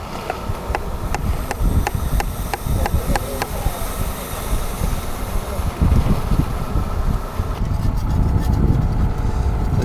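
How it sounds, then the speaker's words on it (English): Strong gusts of wind buffet the microphone at an outdoor concrete pour site, a continuous rumbling roar with a quick series of sharp clicks early on and a brief voice in the background. "As you can see, there's a lot of wind."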